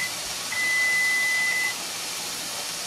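A kitchen timer sounds one steady, high electronic beep lasting just over a second over faint room hiss, then falls silent.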